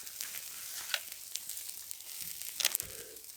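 A steak frying in a pan at a wilderness campsite, giving a soft, steady sizzle with faint crackles and a few sharper pops, fairly quiet and close with no talking.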